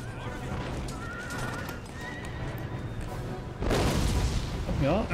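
Cavalry horses in an Empire: Total War battle whinny several times over steady hoofbeats and battlefield din, with a louder, busier burst of neighing near the end.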